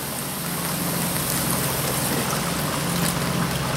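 Red Cabernet Sauvignon poured into a pan while cooking sauce piquante, a continuous close hissing, trickling wash with no pause.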